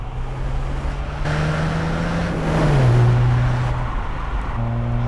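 Exhaust of a 2023 Mercedes-AMG C43 4MATIC with an electrically turbocharged engine, a loud close steady drone whose pitch rises in a rev and then settles back.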